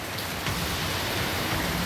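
Heavy rain falling steadily during a thunderstorm in the Attock and Sialkot area of Pakistan, a dense, constant wash of close, loud hiss with no break and no voices.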